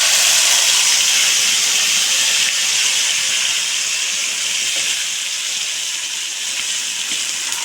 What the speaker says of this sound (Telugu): ఉల్లిపాయ, పచ్చిమిర్చి, టమాటా పేస్ట్ అనేది మొత్తం ఆ పేస్ట్ కూడా వేసేసుకుందాం